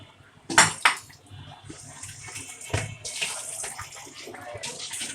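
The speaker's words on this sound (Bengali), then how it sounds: "বাদাম বেটে নেওয়া পানি গুলা দিয়ে দিই" Ground-nut water is poured into a pot of kacchi biryani: two short splashing pours near the start, then softer sloshing and a clink of utensils, close and fairly quiet.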